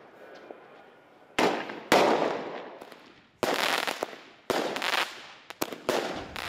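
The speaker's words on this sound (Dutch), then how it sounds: "die keiharde knallen van het vuurwerk" Loud firework bangs and firecracker pops burst out one after another at irregular intervals in streets in Zeeland, Netherlands, sharp cracks rising over a quiet background hiss.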